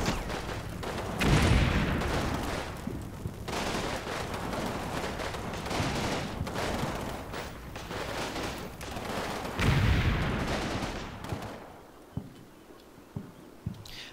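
Area fire in a strategy video game training campaign: a continuous rumbling stream of gunfire and distant booms, with heavier bursts near the start and around ten seconds, thinning to scattered sharp cracks at the end.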